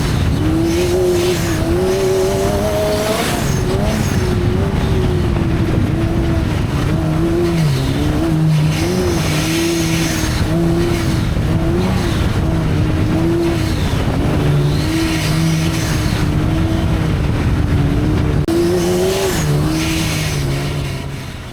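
Dune buggy engine running hard across the Glamis sand dunes, a loud continuous roar with wavering pitch as the throttle rises and falls, close and steady throughout with no voices.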